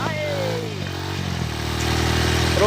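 A motorcycle engine on a muddy rural road in the rainy season, droning and revving steadily close by, with a faint voice alongside.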